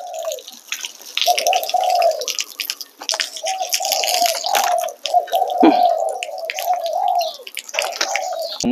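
Water trickles and drips steadily into a drinking dish for a pet spotted dove, with small splashes throughout and soft tonal bird calls in the background.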